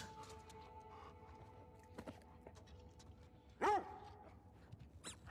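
A dog in The Last of Us Part II gives a few short barks and yips over a steady background hum of game ambience, with faint movement sounds between them.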